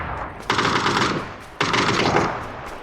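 Gunfire in the PUBG video game arrives as two loud bursts of rapid automatic fire, each lasting about a second, separated by a short pause with no talking.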